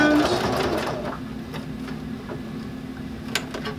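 Sewing machine stitching around a Velcro strip on a fabric bag handle cover, a steady close mechanical whir with a faint ticking rhythm running continuously.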